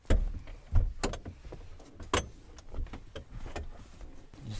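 Car door handling inside a road-trip vehicle at night: a string of sharp clicks, thumps and latch knocks, several distinct impacts spread over a few seconds, close and fairly loud, with no voices.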